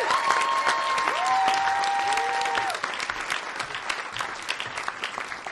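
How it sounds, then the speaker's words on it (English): Sustained applause from an audience at a startup demo day, steady and full for a few seconds before thinning out, with a brief tonal sweep near the start. "Round of applause."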